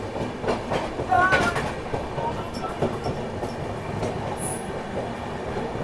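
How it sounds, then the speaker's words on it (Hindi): A Bhubaneswar Express passes the North East Express at Tundla, heard from on board as a steady rumble of rolling wheels with rhythmic clatter and a brief squeal, loud and continuous. "नॉर्थ ईस्ट एक्सप्रेस का ओवरटेक हो रहा है भैया।"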